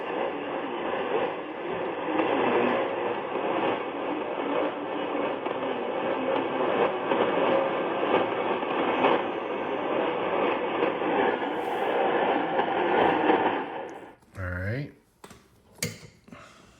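A dense, steady wash of radio noise and tones from an Eton E1 XM receiver, two overlapping signals humming together in sync mode, then cutting out into a few short chirps and clicks near the end.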